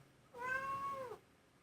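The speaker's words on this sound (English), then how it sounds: "I don't know if you guys could hear my cat meow." A house cat gives a single clear, drawn-out meow close by in a quiet room, lasting under a second.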